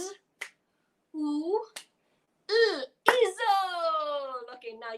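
Three crisp single handclaps, one per letter of a name, alternate with a voice calling out the letters on a morning television show.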